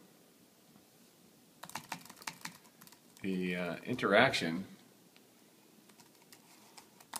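Typing on the keyboard of an iPad, a burst of soft, quick clicking keystrokes, close and moderately loud, briefly overlapped by a man's speech in the middle.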